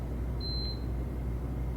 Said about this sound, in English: And then it beeps.